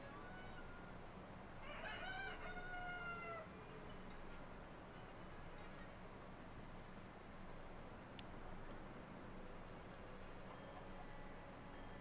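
Chickens cluck and a rooster crows in Zelda: Tears of the Kingdom, a brief crow near the start over a steady quiet outdoor ambience, with a few faint clucks and chirps after.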